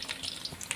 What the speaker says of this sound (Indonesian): Kita goreng dulu sampai benar-benar